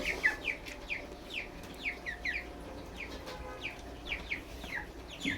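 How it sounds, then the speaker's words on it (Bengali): Chickens cluck in quick repeated bursts at a steady pace, moderately close but fairly quiet, with no talk. "মুরগিগুলা বেশ বড় হচ্ছে তাড়াতাড়ি এইবার"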